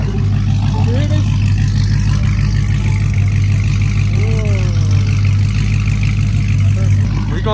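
A 1000hp Dodge Demon Charger with no hood idles steadily and loudly nearby, a deep continuous engine rumble throughout with faint higher whines drifting over it.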